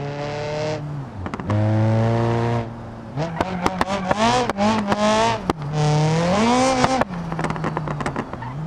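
A race car engine in the video game BeamNG revs up and down repeatedly, with sharp gear shifts, rising whines and brief tire squeals, loud and close.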